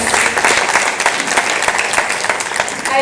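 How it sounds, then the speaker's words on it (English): An audience at a book launch event gives a sustained round of applause, dense steady clapping from many hands filling the room without pause. "So let's give him a big round of applause."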